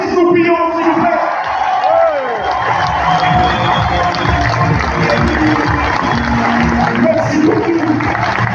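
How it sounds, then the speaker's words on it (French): A handball arena crowd at a US vs Valence match cheers and applauds in a steady, loud roar of clapping and shouts that fills the hall without a break. "Merci d'applaudir Mathis Loupillon, s'il vous plaît."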